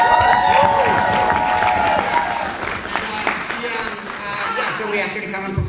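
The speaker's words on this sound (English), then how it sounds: "Give a round of applause for Word Up." Audience applause and some cheering at a poetry slam final during a writers festival, loud and steady at first and then easing off, with tonal voices or music mixed in.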